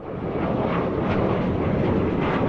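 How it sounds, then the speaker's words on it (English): Airplane taking off east into high crosswinds during a dust storm in the southeast Las Vegas Valley; a steady, loud broadband roar of engine and wind noise fills the whole stretch without a break. "Airplanes continued taking off east into the storm."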